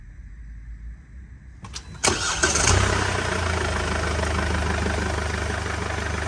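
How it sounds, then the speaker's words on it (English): Mercedes diesel car with an AdBlue system cranking over with a short starter whir, catching into a loud start, then settling into a steady, close low idle with no speech. "I'm going to start the car."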